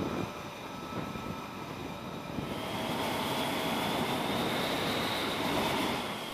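Fighter jets launching from an aircraft carrier deck during combat-like exercises: a steady, loud broadband jet roar swells after a couple of seconds and holds, with a rising engine whine and no talk.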